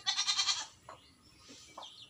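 A goat bleats in a quick wavering burst, then a few short softer calls follow after brief pauses, fairly close and quiet with no talk.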